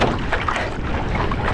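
A strong gust of wind roars steadily against the microphone as a runner trains outdoors, loud and close and without pause.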